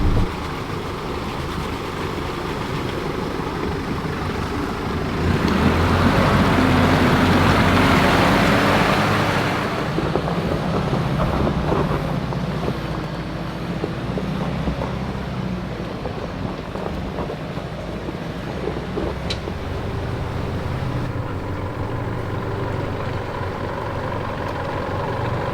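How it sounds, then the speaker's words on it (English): A 4WD crawls slowly through a creek during an off-road drive, with a steady low engine rumble and a surge of water splashing around the wheels midway, plus wind buffeting the microphone throughout. "We're just nice and slow through this creek"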